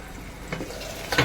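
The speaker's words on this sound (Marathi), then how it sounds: "बघा, आपला कांदा शिजत आहे" Onions for prawn biryani cook in a pan with a low steady sizzle and a couple of brief stirring scrapes, quiet and close, with no voices.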